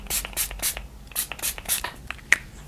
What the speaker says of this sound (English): let's try the Amazing Makeup Fixing Spray